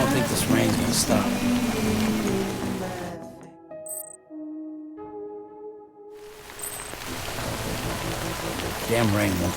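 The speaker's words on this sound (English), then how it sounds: "I don't think this rain's gonna stop." Heavy rain in Death Stranding hisses continuously, cutting out for a few seconds as sustained musical tones play, then resuming loud and close.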